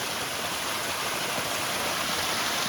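A waterfall in Prairie Hollow Gorge, Missouri, pouring as a loud, steady rushing roar of water close by, constant and unbroken across a few seconds, with no one talking.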